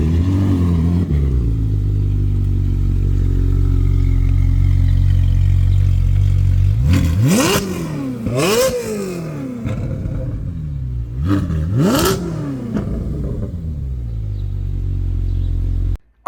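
Car engine with a new Valvetronic Ferrari exhaust, idling loud and steady, then revved sharply about four times in quick bursts that climb and fall, with a brief cutoff at the end.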